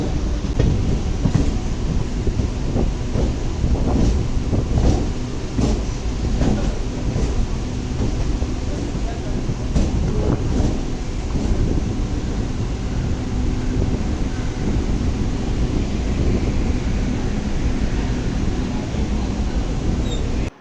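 A Chennai MRTS suburban train rumbles along the track near Velachery, a loud, sustained roar with clattering rail noise that holds steady throughout.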